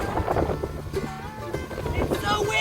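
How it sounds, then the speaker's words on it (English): Strong wind blows across the Ice Age Trail, buffeting and rumbling loudly against the microphone in gusty waves, with voices partly audible beneath it. "It's so windy!"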